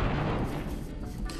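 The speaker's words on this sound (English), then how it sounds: "I do like the explosion effects though." Cartoonish explosion effects from the video game Spyro 2: Ripto's Rage, a dense run of booming, crackling blasts filling the moment steadily at moderate level with no talk over them.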